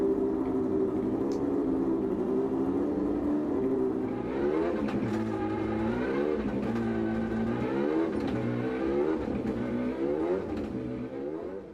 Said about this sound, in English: Come on, rev the car.